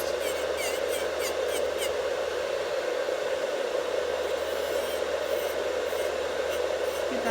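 A Nail Couture dust collector runs and pulls airborne nail dust at a desk, giving a steady, even fan whoosh with a whining hum that stays constant throughout, close by.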